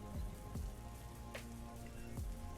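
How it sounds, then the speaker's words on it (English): Soft rain hisses steadily in the background of a music track, with low tones and a beat running over it and no voices. "Little rain in the back."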